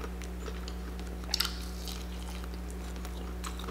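Someone chews Popeyes fried chicken close to the mic, with soft, wet chewing and a couple of brief louder bites over a low steady hum.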